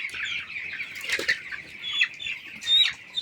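Young chicks in a poultry brooder give high, thin chirps alongside brief bursts of fluttering wings, close by and fairly quiet.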